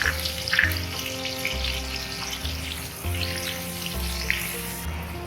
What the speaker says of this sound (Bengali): ওই তেলে আমি পেঁয়াজের মশলাটা দিয়ে দিচ্ছি।